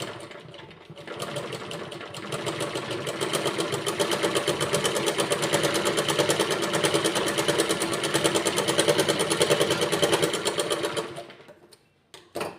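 A sewing machine stitches a four-tuck blouse, running steadily and close for about ten seconds in a dense, even mechanical whir, then stopping, with a brief clack at the end.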